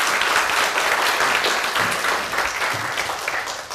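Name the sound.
audience applause after a lecture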